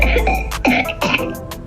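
Someone imitates a whooping cough (pertussis) attack, giving a close, loud series of harsh throat-clearing coughs in quick rough bursts.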